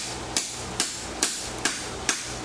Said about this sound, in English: I want to start with my hammer right here and push into it